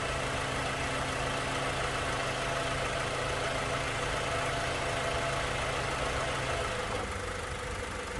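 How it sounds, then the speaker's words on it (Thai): A 1998 Honda Civic with its stock 1.6-litre D16Y8 VTEC engine idles steadily, a smooth, even mid-pitched hum close to the microphone with no voices over it. "ฟังเสียงเครื่องเลยครับ"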